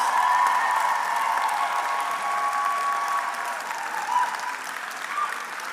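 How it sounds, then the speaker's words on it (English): A convocation audience applauds graduates' support network with sustained, even clapping from a large hall crowd, slowly easing in strength over several seconds. "A round of applause for your support network that have made this possible."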